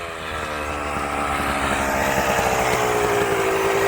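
A Kawasaki KX250 two-stroke dirt bike engine runs loud and close, its buzzing, raspy drone holding steady and rising slightly in pitch across the few seconds.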